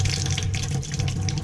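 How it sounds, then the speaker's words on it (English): Water gushing from an open faucet at a laundry sink as flow through the plumbing increases, a loud, steady splashing hiss with no speech. "the homeowner is going to open the faucets upstairs, and as you see, look at the water flow increase"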